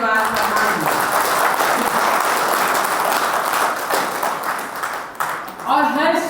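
Loud, sustained applause from an audience at a political party committee meeting, a thick continuous roar of clapping that dips briefly before a voice speaks near the end.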